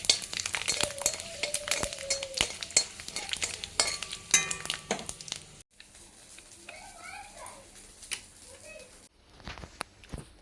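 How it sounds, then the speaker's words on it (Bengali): Thin potato slices fry in mustard oil in a kadai with a soft, continuous crackle, broken by frequent scraping stirs and utensil clinks. The sound grows quieter midway, and faint tonal background noise drifts beneath it. "আর এই যেগুলো আমি আলুগুলো ভেজে নেবো"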